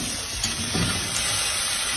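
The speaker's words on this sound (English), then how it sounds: "Let's give that a stir." Food fries in sesame oil in a solar cooker and gets stirred, making a continuous close sizzle and crackle with faint scraping and no voices.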